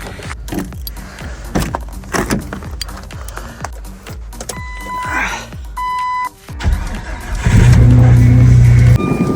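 A jeep in freezing cold, first a run of clinks and rattling knocks, then a few electronic beeps and chimes, before the engine cranks and settles into a loud steady idle hum.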